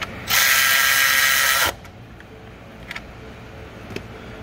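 A ratchet spins fast and loud for about a second and a half while tightening an 8mm bolt on a Ford EcoBoost 3.5 purge valve, followed by a few faint isolated clicks.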